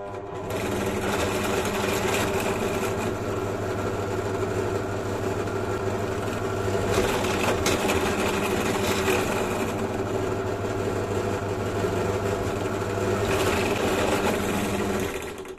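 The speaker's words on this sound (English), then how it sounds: "Okay, back over to the drill." A power drill bores holes in a handmade lightsaber hilt, giving a steady, close motor whine that runs almost continuously with slight pitch shifts.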